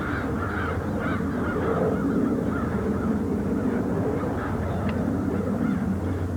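A flock of crows caws repeatedly over a town in Essex, harsh calls overlapping in a dense, continuous racket from several birds at moderate distance.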